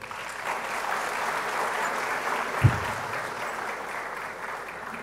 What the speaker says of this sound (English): Shall we please applaud?